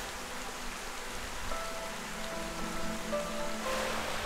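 A small trickle of water runs through a rocky streambed by a hole in the rock in Colombia, giving a steady, soft splashing wash with no voices over it.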